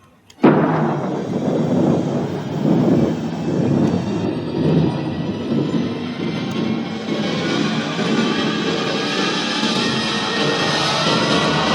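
A radio-drama rocket blastoff effect right after a countdown: a sudden loud roar that holds steady and dense to the end, with no pause and no talk over it.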